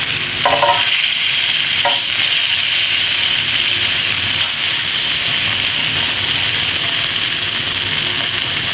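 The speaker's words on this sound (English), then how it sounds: "The ribs are browning up nice." Short ribs brown in a hot pan with a steady, loud sizzle and frying hiss that runs unbroken, broken by a couple of brief clinks near the start.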